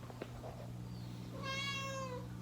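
A cat lets out one long, drawn-out meow indoors in a room kept for several cats, clear and fairly close over a steady low hum, with no talking.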